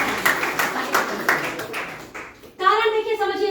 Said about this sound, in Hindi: एक बार आपको ताली बजानी चाहिए